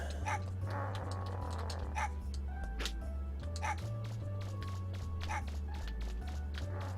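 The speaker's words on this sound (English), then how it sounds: "Kick that dog." In the Mega Man Legends video game, a dog barks repeatedly in short sharp yips at an irregular rhythm, set over looping low game music.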